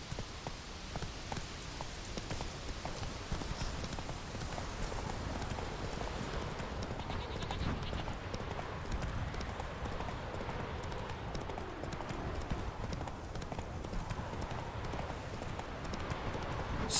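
Roach, a horse in the video game The Witcher 3, trots along with a steady, close clip-clop of hooves that runs evenly over a constant low rumble of ambient noise.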